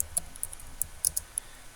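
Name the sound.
typing on a computer keyboard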